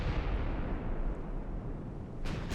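Naval guns firing in the warship video game Ultimate Admiral: Dreadnoughts: a heavy, rolling low boom and rumble from distant gunfire fills the scene, followed by a couple of brief sharper reports near the end.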